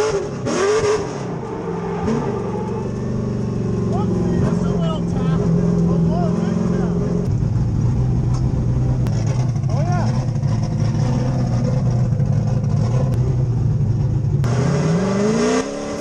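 A Nissan S13 drift car's engine drones and revs steadily at high load through a sustained drift at a pro-am drift event, loud and close, with gear shifts and slight pitch swings and a brief drop near the end.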